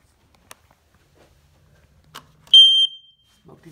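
Smoke detector in a house being tested emits one loud, piercing electronic beep of about a third of a second, preceded by faint clicks and handling noises in an otherwise quiet room.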